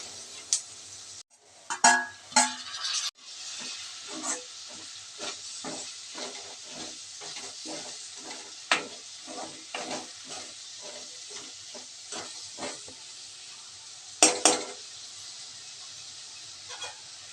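Tomatoes frying in a pan for a village-style raw prawn curry, giving a steady soft hiss of steam and sizzle with scattered crackles and a few louder stirring clanks, close by, with no talking.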